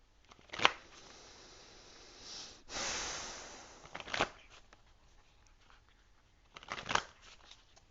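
An Animal Spirit oracle card deck being shuffled by hand, with a few short riffling bursts and one longer sweeping shuffle, close and fairly quiet, with no talking.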